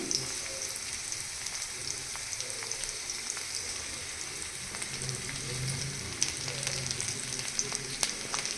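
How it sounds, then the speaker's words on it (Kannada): Curry leaves hit hot oil in a pan for poha, giving a steady, close crackling sizzle with scattered sharp pops and a faint stir or two, no voices. "ಈಗ ಇದಕ್ಕೆ ಕರಿಬೇವಿನ ಸೊಪ್ಪನ್ನ ಸೇರಿಸ್ಕೊಡ್ತಾ ಇದ್ದೀನಿ"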